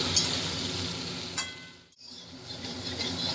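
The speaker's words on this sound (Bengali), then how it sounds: "ওই সরষের তেলের মধ্যে একটু নাড়িয়ে করিয়ে নিচ্ছি" Cauliflower being stirred and fried in a little mustard oil, for an egg and cauliflower curry: a steady, close sizzle with scraping stir strokes, a brief dip midway, and no talk.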